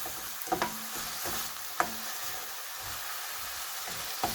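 Onions soften as they fry in a pan for kofta curry, a moderate, even sizzle with occasional spoon clicks against the pan, fairly quiet and without speech.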